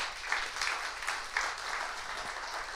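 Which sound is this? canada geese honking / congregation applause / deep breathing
congregation applause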